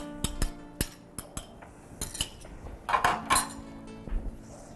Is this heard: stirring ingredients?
yes